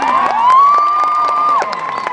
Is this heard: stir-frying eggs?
no